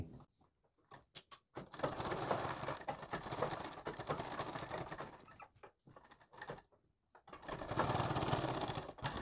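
Electric sewing machine stitching the back neck design of a blouse, running in bursts of steady mechanical whirring with brief pauses, close and fairly loud, no talking.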